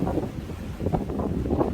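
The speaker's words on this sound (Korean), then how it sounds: "바람이 좀 불고요 파도도 조금 예, 있습니다" Wind gusting and waves washing at a rocky shore breakwater during a typhoon, a steady rough rumble of blustery wind buffeting the microphone with surf churning close by, no voices.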